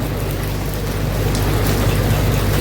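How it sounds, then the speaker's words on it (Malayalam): Heavy rain pours around a truck parked in a shed on the road to Nashik, Maharashtra, a loud, dense, constant roar with a low rumble beneath and no talking. "മഴയൊന്നും മൊത്തമായിട്ട് മഴ തന്നെ"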